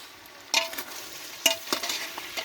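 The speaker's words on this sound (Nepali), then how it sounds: "हाम्रो किलानको स्पेसल मटन आज पाहुना खुलाउँदैछौँ हामी पकाउँदै अब चलाउँ है यस मटन" Mutton cooking in a pot outdoors in a village is stirred with scraping strokes: a few distinct bursts, at about half a second and again around one and a half seconds, over a steady low sizzle, with no talking.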